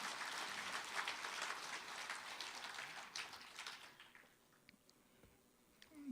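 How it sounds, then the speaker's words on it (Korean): An audience applauds a party leader's inaugural speech, a quiet, distant wash of clapping that fades out midway, leaving a few scattered claps in near silence. "큰 박수 부탁드리겠습니다."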